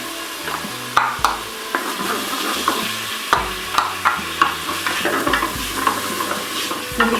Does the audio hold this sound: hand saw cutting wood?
no